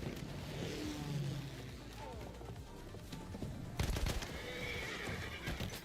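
A horse in the Battlefield 1 video game whinnies loudly amid dense battle noise and engine rumble, with a burst of gunfire or impact sounds near the end.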